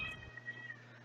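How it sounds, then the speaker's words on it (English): A single short, faint meow comes from an indoor house cat crying somewhere in the background of a quiet room. "Sorry about if you guys can hear the cat in the background."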